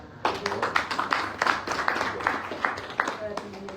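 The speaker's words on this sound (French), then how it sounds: "Je pense que c'est important d'applaudir" Scattered hand clapping from a press conference audience, a short burst of uneven claps over a low murmur of voices in a room.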